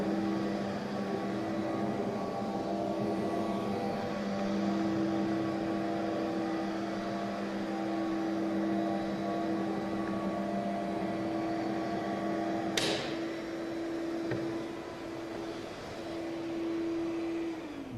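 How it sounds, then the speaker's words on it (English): A dust collector cleaning a granite floor before polishing drones continuously with a steady tonal hum and a higher whine, with one brief sharp clatter partway through. "So you simply connect dust collector, and simply you clean the floor."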